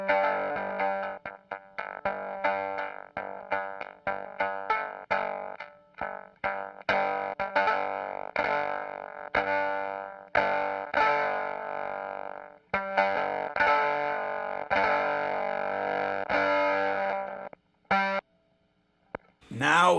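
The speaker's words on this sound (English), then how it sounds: "I'm going to starve the voltage a little bit more and see if I can't get more of that gated Velcro Fuzz sound." Electric guitar through a Caroline Guitar Co. Hawaiian Pizza fuzz pedal with its voltage starved, producing a sputtering, gated Velcro-like fuzz; a long run of choppy picked notes that cut off abruptly, close and alone, ending with a short squeal.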